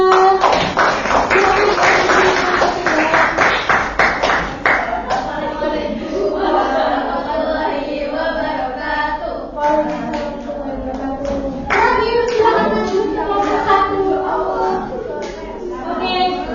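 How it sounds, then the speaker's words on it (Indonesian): Classroom group clapping for a student team during a teacher coaching session, a burst of hand claps at the start fading into chatter and children's voices talking over it. "tepuk tangan untuk kelompok 3"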